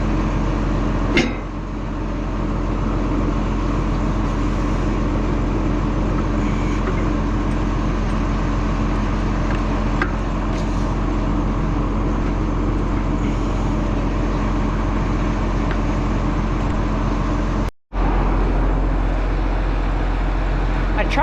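A Case 485 tractor runs steadily uphill, its engine giving a continuous low drone throughout with a few faint knocks and one brief dropout.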